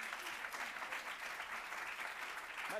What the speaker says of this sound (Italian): Facciamo un applauso al nostro volontario